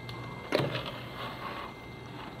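A CD slides into a computer's CD drive, a short mechanical thunk and whirring tray movement, followed by a low motor hum from the machine, close and fairly quiet.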